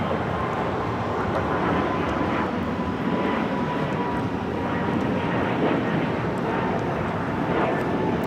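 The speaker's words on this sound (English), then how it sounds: "That was Air Canada 776 taking off to Montreal on the A220-300." Air Canada A220-300 airliner taking off from LAX toward Montreal, a loud, steady broadband jet roar filling the air without letup, heard from a distance.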